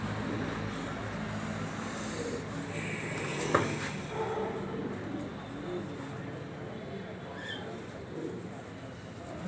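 Pigeons softly cooing in a loft, with low, continuous murmuring coos and a faint flutter, heard close under someone talking.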